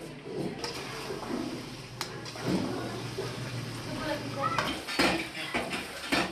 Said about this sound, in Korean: 설거지조차 간단하지 않다.